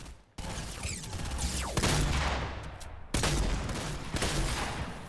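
Gunfire in the game Fortnite, several loud, close bursts of rapid shots separated by short gaps, ringing with echoing tails, with no talk over them.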